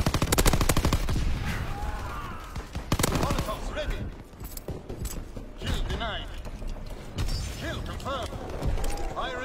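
Flak tower turret firing at enemy aircraft in a video game: rapid bursts of gunfire, loud at the start and recurring in clusters, mixed with mechanical clatter and game effects, with a voice talking over it.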